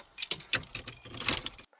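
Car keys jangling in a film scene, a series of bright metallic shakes and clinks over under two seconds, close and alone with no talk.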